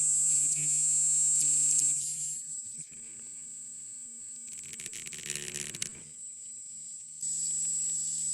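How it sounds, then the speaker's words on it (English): A rotary tool grinds a part of a 1938 Parker Royal Challenger fountain pen flat, giving a steady high-pitched whine that dips and rises as the bit bears on the piece, with a rougher grinding stretch midway. "I might put that on my rotary tool to grind it flat."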